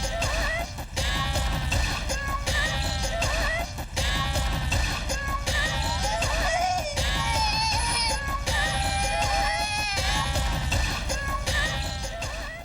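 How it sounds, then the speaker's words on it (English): A harsh noise track mashes cat, baby and gun sounds into one loud, dense wall of bleating, wailing cries over a constant roar, running without pause. "it's a sound of cats, babies, guns, a number of different things all mashed together"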